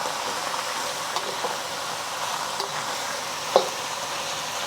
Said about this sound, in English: We're just gonna let that sear for about a minute before moving it around.